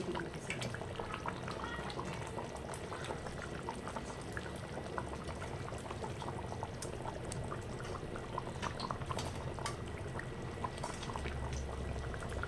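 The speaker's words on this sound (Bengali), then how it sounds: "মাছগুলো এবার আমি একে একে দিয়ে দিচ্ছি আমার ঝোলটা ভালো করে ফুটে গেছে" Katla fish curry bubbles in a pan, a steady, continuous simmering boil with dense small pops and gurgles holding at an even level from start to finish, with no voices.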